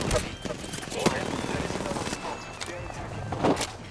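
Gunfire from the Apex Legends video game crackles in short, sharp bursts of shots through a chaotic firefight, with quick cracks at intervals and a speaker's voice mixed in.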